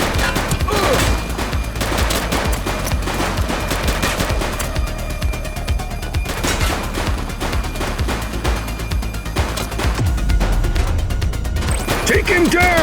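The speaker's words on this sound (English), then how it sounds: "He's shooting!" Rapid gunfire crackles through a shootout in the police video game The Precinct, with dense automatic bursts and single shots running almost continuously at high volume, mixed with shouting and game sounds.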